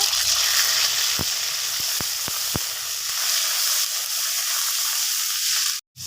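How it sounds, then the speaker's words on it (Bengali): Onion paste, cardamom pods and bay leaf fry in hot mustard oil, a loud, steady close sizzle with a few faint clicks of stirring and a brief break near the end. "তেলটা গরম হয়ে গেছে, দিয়ে দিব 3টে এলাচ, দিয়ে দিব তেজপাতা, এরপরে দিয়ে দিব এখানে আমি পেঁয়াজ বাটা"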